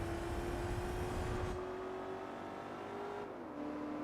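Turbocharged car engine in Gran Turismo 4 holding a steady drone, loud at first, then dropping in level about halfway with a slight pitch shift near the end, no talk.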